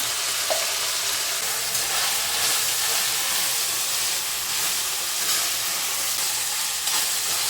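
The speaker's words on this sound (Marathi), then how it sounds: "सगळे मसाले छान परतून झाले" Spices with onion-garlic masala, red chilli powder, black masala and turmeric fry in a pan with a constant bright sizzle and hiss, with faint stirring scrapes underneath and no voices.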